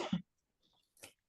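A single short, close cough at the start, followed by near silence and a faint breathy exhale.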